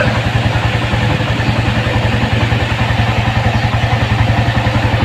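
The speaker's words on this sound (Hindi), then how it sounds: "ये इसका इंजन है दोस्तों, फुल मॉडिफाइड किया हुआ है।" A fully modified 2013 Suzuki GS 150 motorcycle engine runs steadily up close, a loud, even rapid thumping idle with mechanical clatter and no talking.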